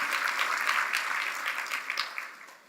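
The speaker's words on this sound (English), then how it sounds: "Give him another round of applause" Steady applause from a crowd, a dense wash of clapping that holds for a few seconds and then begins to thin out.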